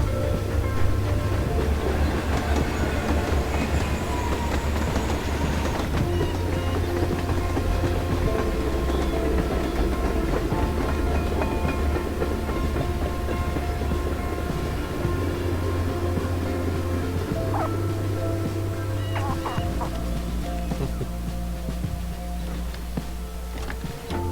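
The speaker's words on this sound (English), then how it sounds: "Yep, there's the train." A train rumbles steadily past in the video game Life is Strange: Before the Storm, a sustained loud low rolling drone with faint clanking over roughly twenty-four seconds.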